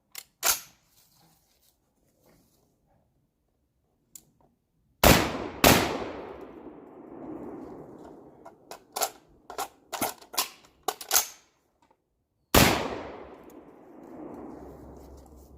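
A VR80 shotgun fires high brass buckshot at an outdoor range target: a few loud, sharp blasts with rolling echo, spaced several seconds apart, and quieter clicks and clatter of the action between shots.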